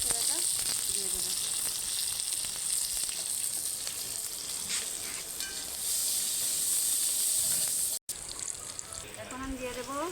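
Onion and green chili hitting hot oil in a home kitchen pan, a loud bright sizzle and hiss that holds steady throughout, with occasional voices faintly underneath.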